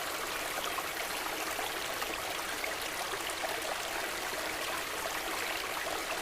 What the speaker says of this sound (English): I particularly love the sound of running water.